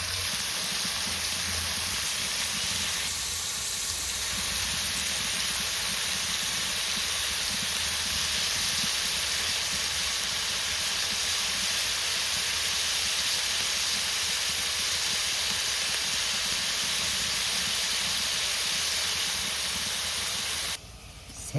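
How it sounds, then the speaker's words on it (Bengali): Prawns frying in hot oil in a kadai, a steady loud sizzle and hiss with no talk, continuing evenly before cutting off near the end. "এখন আমি চিংড়িগুলোকে ভেজে নেব"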